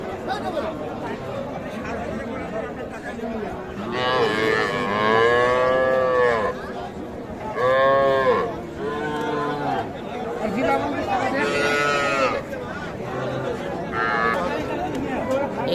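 Cattle low at the Ambari cattle market, where small bulls and heifer calves are sold; several long, drawn-out moos rise over steady crowd chatter and nearby talking.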